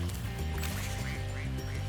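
Ducks quacking in Spyro: Ripto's Rage near a marsh river, a few short quacks repeating over steady game music.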